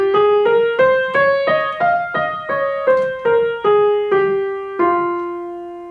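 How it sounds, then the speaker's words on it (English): A single melodic instrument plays an F natural minor scale in eight evenly spaced, sustained notes rising step by step, each note clearly struck and decaying, the final tone held longer and ringing out alone. "I will get a natural minor scale that sounds like this"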